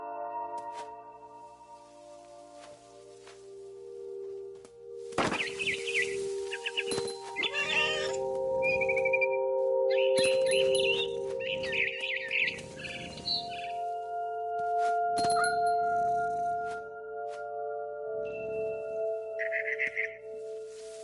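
A frightened barn swallow in the video game What Remains of Edith Finch gives bursts of high, twittering calls over a steady, droning musical background, with the chirps clustered and repeating near and fairly loud.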